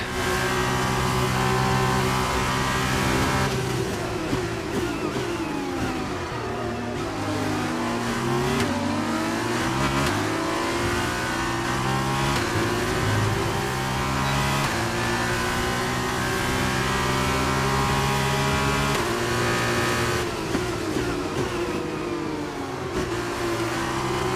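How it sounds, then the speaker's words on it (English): An F2 race car in the F1 22 game spins its wheels at Sakhir, its engine revving hard with rising and falling pitch sweeps over a continuous, loud mechanical whine, with no talking. "Wheel spin again."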